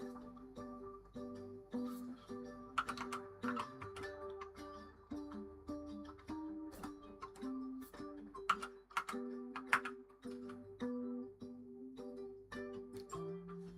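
Typing on a computer keyboard, soft irregular clicks of keys tapped at a slow, uneven pace, faint and close over a steady low electrical hum, with no speech.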